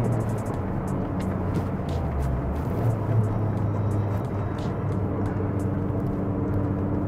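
A first-generation classic Mini Cooper is driven along, its engine a constant droning hum from inside the car with road noise underneath, with no change in pace and no one speaking.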